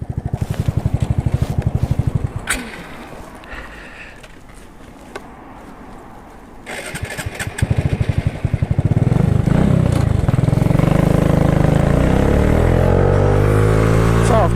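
Suzuki Address 125cc scooter riding along a road, its small engine droning steadily with rising revs and heavy wind rush in the later half, the sound dipping quieter mid-ride before building loud again.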